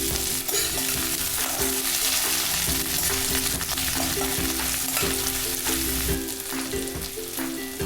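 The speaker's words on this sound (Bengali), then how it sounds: "একটু জিরে ফোড়ন দিলাম, কাঁচা লঙ্কা কুচি, পেঁয়াজ কুচি," Cumin seeds, chopped green chilli, onion and ginger frying in oil for a drumstick and potato curry, a continuous loud hiss and crackle heard close, with repeated stirring scrapes against the pan.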